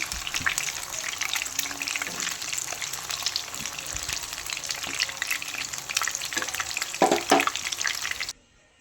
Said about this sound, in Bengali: এরকম ভেজে নিচ্ছি